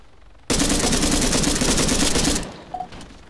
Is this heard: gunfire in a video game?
yes